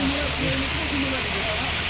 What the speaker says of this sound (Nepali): कति राम्रो झरना छ